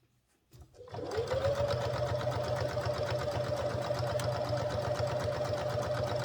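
Sewing machine stitching two collar stand pieces together with a half-centimetre seam, running steadily and loudly for several seconds after a brief quiet start, with no talking.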